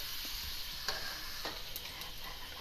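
Sizzling from aloo keema matar ingredients being sautéed in a pan, a steady hiss with a few stirring scrapes and clinks, close and fairly quiet, no talking.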